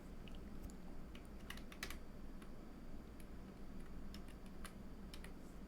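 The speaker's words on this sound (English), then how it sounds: "Hold P on your keyboard and left click to create this quickly." Keystrokes and mouse clicks come from someone working in Unreal Engine 5.6 on a computer, a scatter of light, quiet ticks, some in quick clusters, over a low steady background hum with no talking.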